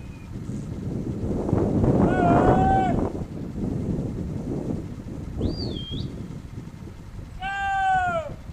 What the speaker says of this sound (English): Starting to moo.